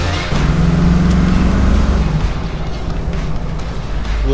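A 1978 Pontiac Trans Am is driven hard, its engine giving a loud, close, deep rumbling roar that swells and then settles into a steady drone, with no talking.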